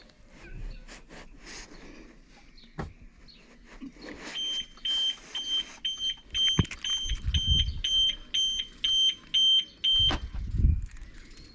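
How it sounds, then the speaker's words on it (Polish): A factory car alarm on an Audi A6/A7 C7 sounds in repeated short high-pitched beeps, a rapid regular pulsing that runs for several seconds amid background clatter and rumble. "No jak widać i słychać, wszystko nam się udało zrobić poprawnie. Alarm działa."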